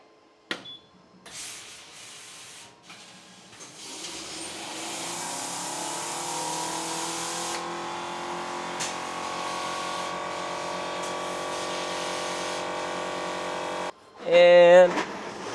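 CNC machine cutting 2mm stainless steel parts, a steady whirring hum building after a few seconds and holding, with a sharp burst of higher noise near the end; a voice speaks briefly at the start.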